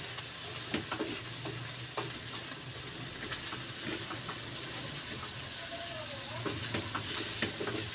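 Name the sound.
stirring vegetables frying in a pan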